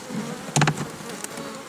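Honeybees buzz close by at a small hive in a steady drone, with a louder burst of buzzing as one passes near.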